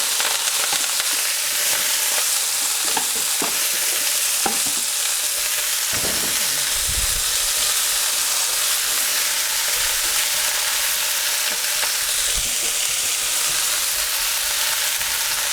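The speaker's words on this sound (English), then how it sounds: "we're going to be frying these vegetables for about 2 or 3 minutes" Vegetables stir-frying in hot vegetable oil: constant loud sizzling with intermittent scrapes and clatters of stirring, no talking.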